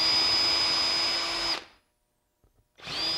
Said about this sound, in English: Now we can drill our pilot holes using a 7/64 inch drill bit.